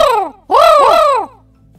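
A person's voice imitates crow caws: a short falling call, a brief pause, then a longer harsh caw, both close and loud.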